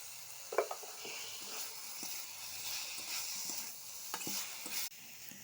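Salted boiled potatoes fry in a pan under a soft, steady sizzle, with a utensil scraping and stirring them in scattered, close strokes.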